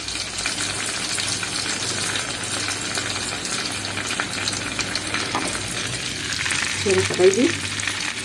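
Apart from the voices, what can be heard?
butter and flour frying and stirred in a pan for béchamel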